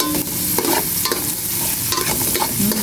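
Garlic sizzles loudly in a hot pan, stirred with repeated utensil scrapes over a constant frying hiss, close and alone.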